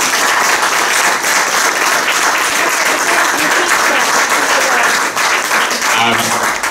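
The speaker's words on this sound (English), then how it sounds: "So could we get an applause for Gwyn, please?" A graduation audience for a Digital Jersey coding course applauds Gwyn, dense sustained clapping filling the room, loud and continuous, tapering slightly at the end.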